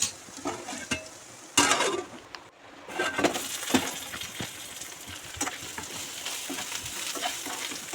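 Onions fry in a pan with ginger-garlic paste for an egg fry, giving a busy sizzle with repeated scraping and clanking of a spoon as the mixture is stirred. There is a brief lull partway through, and no one speaks.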